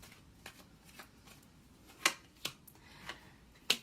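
Tarot cards are shuffled and snapped close by, giving a series of brief, crisp riffles and flicks spaced irregularly over a quiet background, without talking.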